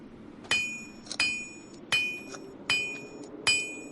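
A hammer strikes a chisel into very hard rock five times at an even, unhurried pace, each blow a sharp metallic ring that decays quickly over a quiet background.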